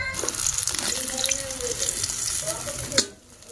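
Fish fries in a pan with a steady close sizzle and crackle, mixed with stirring and clinking, ending in a sharp clatter before the noise drops away.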